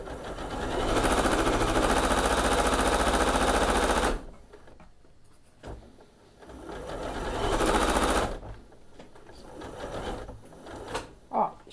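A sewing machine stitches backpack fabric in two loud, rapid bursts of clattering needle strokes, separated by quieter pauses with fabric handling, and someone talks in between.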